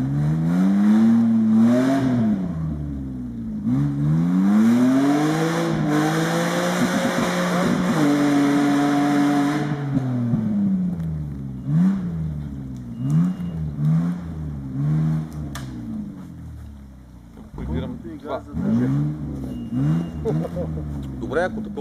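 An off-road vehicle in Lozen revs its engine hard, with the pitch rising and falling through repeated throttle bursts as it backs down a slope and then drives forward, loud and close, while people talk over it.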